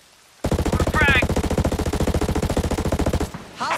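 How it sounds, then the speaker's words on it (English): Rapid, sustained automatic machine gun fire in the tactical shooter Ghost Recon Breakpoint on PS5, a loud unbroken burst of close shots lasting about three seconds, with a brief game voice chirp near the end. "Hostiles are shooting. Gunfire."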